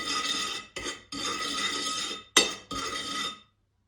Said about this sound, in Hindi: और अब इसको हमने मिक्स कर देना है।